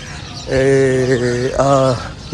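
Two soft, low cooing calls of pigeons at a saint's shrine in Multan, the first longer and slightly wavering, the second shorter, close by over faint background noise.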